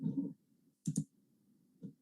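Two quick mouse clicks in close succession, crisp and near, made while switching between browser windows at a computer, followed by one softer click; no talking.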